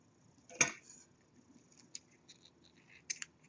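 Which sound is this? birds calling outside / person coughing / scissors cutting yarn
scissors cutting yarn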